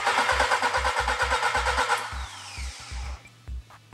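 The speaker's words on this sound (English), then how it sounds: "and I'm cranking the engine." An engine on a test rig cranks during a pressure test. The starter turns over with a steady rhythmic chug under a high whine, then slows into separate heavy pulses as the whine fades. It is close and loud.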